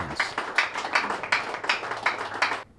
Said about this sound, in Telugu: ఒక్కసారి మనం చేసిన జనానికి గట్టిగా క్లాప్స్ కొట్టుకుందాం మేడం